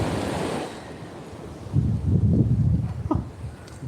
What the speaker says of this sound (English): Gust.